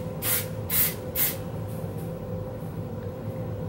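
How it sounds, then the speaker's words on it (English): Not Your Mother's She's a Tease Volumizing Spray hairspray goes onto the hair roots in three short, close hissing bursts, followed by quiet room tone. "I use the Not Your Mother's She's a Tease Volumizing Spray"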